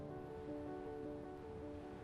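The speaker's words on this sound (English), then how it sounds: "the waves crash explosively across the bow and the wind bellows against the sails" Waves crash against a wooden fishing boat at sea, a faint, steady wash of surf and wind with low sustained tones running underneath throughout.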